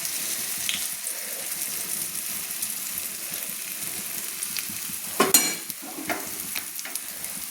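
Egg and cabbage mixture being spread with a spoon in a hot wok, giving a steady close frying sizzle with light scraping and a brief louder clatter of the spoon against the metal partway through.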